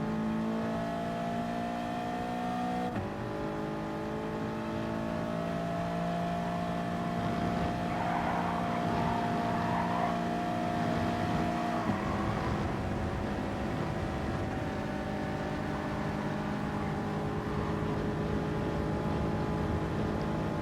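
Race car engines in Gran Turismo Sport at Spa, including a BMW M4, drone steadily at high revs throughout, with pitch shifts as gears change and another car closes in alongside.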